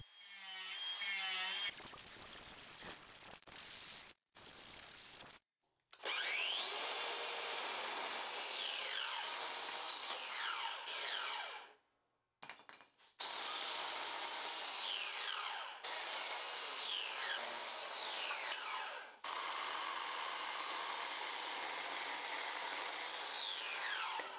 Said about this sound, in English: now it's time to start power carving